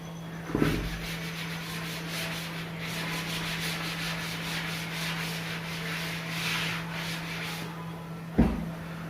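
An object rubbed to give it an electric charge, a continuous soft rasping friction sound steady throughout, with a bump at the start and another near the end, close and without talk.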